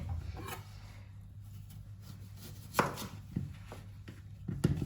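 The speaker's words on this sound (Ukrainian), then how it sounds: "Беремо огірочки і будемо нарізати" Knife chopping cucumbers for a mayonnaise salad on a board, a few sharp, separate cuts at uneven intervals over a low steady hum, fairly quiet and close.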